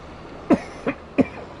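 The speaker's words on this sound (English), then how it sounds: "Got a little cough right there." Three short, sharp coughs close to the microphone, evenly spaced within about a second.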